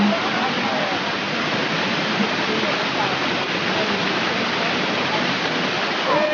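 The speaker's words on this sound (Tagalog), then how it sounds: "Caledonia Falls dito sa Platres" Caledonia Falls near Platres in the Troodos mountains roars as a continuous, close rush of falling water, a dense even hiss that holds steady throughout.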